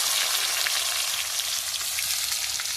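Boiled potatoes frying in hot oil for a home-made chicken biryani give a steady, dense sizzle with small crackles and pops, close and continuous throughout.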